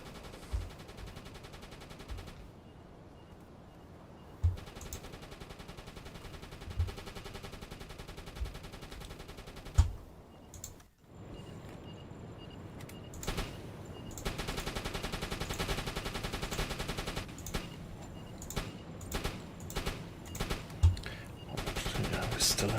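Gunfire in the submarine game UBOAT: repeated bursts of deck-gun and machine-gun shots crack over a dense, steady roar of sea and engine, coming in uneven volleys with brief pauses.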